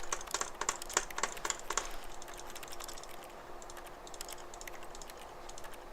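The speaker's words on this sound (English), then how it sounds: "you're seriously just pressing keys on a keyboard and clicking a mouse" Rapid keyboard key presses and clicks from The Stanley Parable video game rattle in a quick burst for about two seconds, then give way to quieter scattered clicks over a low steady hum.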